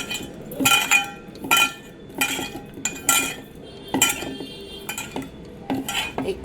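A spoon clinks steadily against a bowl while tofu is mixed with soy, tomato, chilli and red chilli sauces and a little black pepper, with regular rhythmic knocks and scrapes and no talking.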